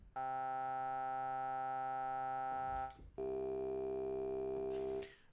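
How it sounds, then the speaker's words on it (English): A single oscillator patch in the SynthMaster 3 software synthesizer plays a steady, buzzy, harmonic-rich tone, then a second held note at a different pitch after a short gap, clean and alone with no talking. "Let's actually have a single oscillator."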